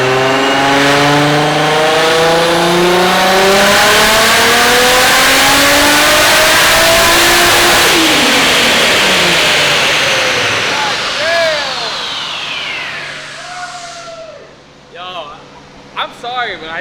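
A four-door Toyota Supra revs hard through a dyno power pull, its engine note climbing in strong rising harmonics, peaking near eight seconds, then falling away and burbling down. Voices talk and react over the tail end.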